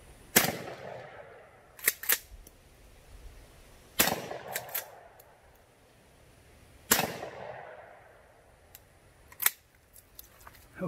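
Winchester Model 42 shotgun firing buckshot and disc loads: a few sharp, loud reports spaced several seconds apart, each followed by a short ringing tail and smaller clicks between shots.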